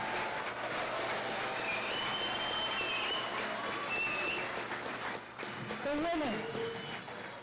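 Applause at the Launa Ole awards ceremony for NCO of the Year nominees, a sustained wash of clapping from a large audience with faint whistles and cheers, fading near the end.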